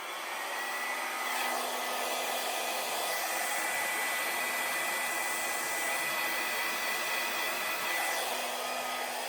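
A hair dryer blows steadily across an acrylic paint pour to push out jagged edges, a constant close whooshing hum with no breaks and no voices.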